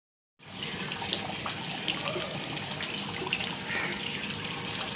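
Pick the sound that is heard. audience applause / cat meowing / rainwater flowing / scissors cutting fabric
rainwater flowing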